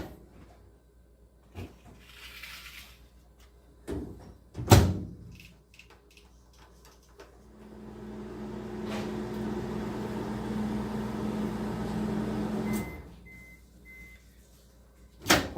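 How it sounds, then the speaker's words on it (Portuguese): Microwave oven running to heat a sample of brick mix: the door thuds shut and buttons click, then a steady low hum for several seconds, a beep, and the door clatters open again, quiet and close. "Mais 1 minutinho no micro-ondas"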